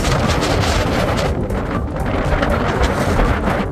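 Strong wind at Sulby Lake buffets the microphone in loud, rough gusts that roar continuously, dipping briefly and then surging again.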